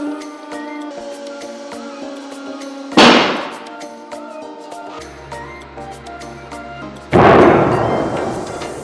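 A bolt and nut in a hydraulic press strength test give two sharp, loud bangs several seconds apart as the bolt snaps, each ringing out over a steady mechanical hum.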